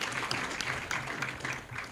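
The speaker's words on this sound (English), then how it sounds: "Round of applause for the Honorable Speaker." Applause in a Kenyan Senate chamber for the Speaker, a dense steady wash of many hands clapping together, moderately loud and continuous with no speech on top.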